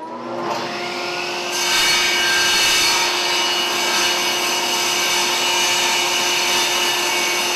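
A piece of wood is cut to make a handmade woodworking plane, with a loud, continuous power-saw whine that steadies after a brief start and runs unbroken, close up.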